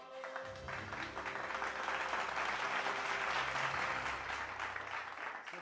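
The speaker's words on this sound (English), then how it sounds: "Big round of applause for our awardees today." Audience applause for awardees at a business summit ceremony fills the hall, a steady, dense wash of clapping from a large crowd that holds throughout with some background tones underneath.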